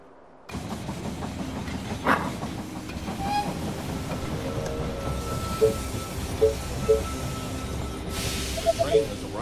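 A train pulls into a station in the strategy game They Are Billions, giving a steady rumble and rail clatter with a few brief high squeals and clanks scattered through it.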